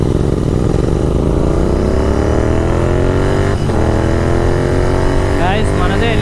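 Tuned GT 650 motorcycle accelerating hard in second gear, engine note rising steadily and loudly over several seconds with a brief dip midway, heard up close while riding.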